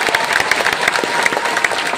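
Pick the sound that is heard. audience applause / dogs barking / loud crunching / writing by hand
audience applause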